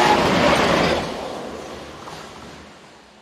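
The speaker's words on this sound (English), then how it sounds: "these two, numbers 2316 and 2357, head north prior to working a freight back to Charleroi" Two Belgian Class 23 freight locomotives running north pass by with a loud broad rushing rumble that fades steadily as they move away.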